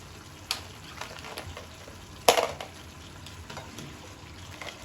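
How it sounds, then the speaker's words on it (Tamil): Crab pieces drop into masala sizzling in a pan, with a sharp clatter midway and a low, steady frying hiss throughout. "இப்போ நம்ம எடுத்து வச்சிருக்கிற நண்டு போட்டுக்கலாம்."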